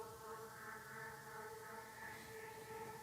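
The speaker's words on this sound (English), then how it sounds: "I have these drone sounds that I use to cover the background." A sustained synthesized drone pad from a UVI Drone instrument, a steady layered tonal bed that shifts slightly over time, quiet and continuous with no other sounds.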